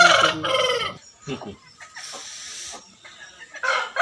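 Big-seed fighting rooster cocks (pandem punjulu) kept at a family home crow and cluck in several loud bursts close by, with short pauses between, mixed with a brief murmur of nearby voices.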